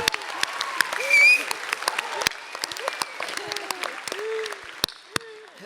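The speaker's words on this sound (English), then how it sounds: "Can we have a round of applause for Jason Patric?" An audience at a Comic-Con panel for a Lost Boys reunion gives a brief round of applause, scattered clapping mixed with voices and laughter from the stage and crowd.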